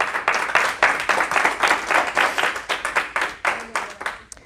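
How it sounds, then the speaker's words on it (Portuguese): A church congregation clapping hands together, a close, steady run of sharp claps in a fairly even rhythm that carries on throughout with no talk over it. "Quem crê, diga amém e bate palmas para Jesus"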